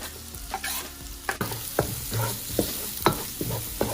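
Garlic and onion sautéing in olive oil in a wok, with a steady close sizzle broken by repeated sharp scrapes and knocks of a stirring utensil, no voices.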